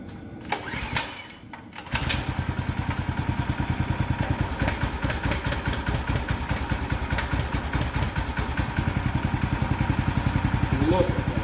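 A Predator engine fitted on a log splitter starts and settles into a loud, rapid, even chugging idle that runs steadily after a brief pull and sputter at the start.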